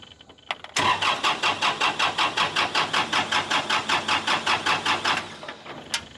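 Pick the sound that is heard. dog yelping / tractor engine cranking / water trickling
tractor engine cranking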